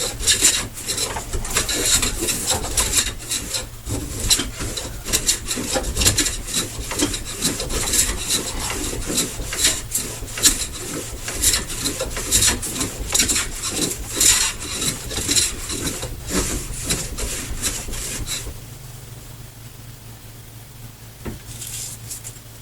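A hand plane shaves along the edge of an oak board, a rapid run of rough, rasping strokes for about eighteen seconds, then it falls quieter with a few last scrapes.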